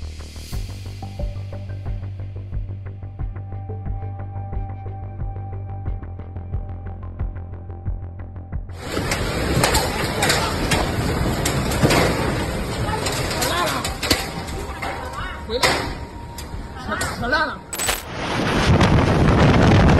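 Violent typhoon winds roar and buffet the microphone in loud, broad gusts, with clattering debris and a sharp bang near the end, following a quieter stretch of low hum.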